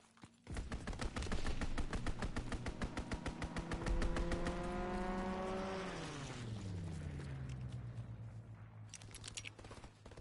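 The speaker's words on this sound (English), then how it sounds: "Strafing run inbound." Aircraft strafing run in a PS4 video game, heard as a long, loud burst of rapid automatic gunfire with a roaring engine pitch sweeping downward as the plane passes, then fading into lighter crackling shots.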